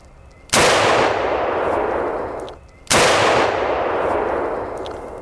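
Two loud rifle shots fired at lightweight Level III+ body armor, each a sharp, close blast followed by a long ringing decay, spaced about two and a half seconds apart with no talk.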